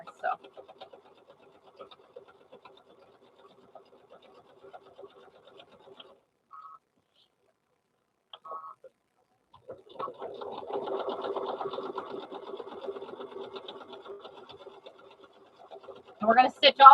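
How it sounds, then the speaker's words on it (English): A sewing machine stitches around the edges of a t-shirt quilt, starting after a quiet stretch with scattered small sounds and then running in one steady, close whirring burst for several seconds. "We're going to stitch all the way around."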